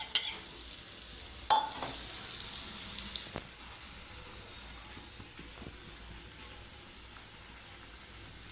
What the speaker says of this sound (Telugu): ఇప్పుడు మనం ఆమ్లెట్ వేసుకోవడమే